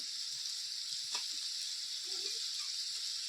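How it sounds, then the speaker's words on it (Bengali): Chopped tomato goes into a pan of frying chopped onions and green chillies for ghugni, a steady bright sizzle running throughout with a brief louder crackle near the start. "পেঁয়াজটা ভাজা ভাজা হয়ে গেছে, এর মধ্যে দিয়ে দেবো টমেটো কুচি"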